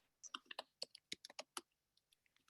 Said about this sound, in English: I hear someone else typing also.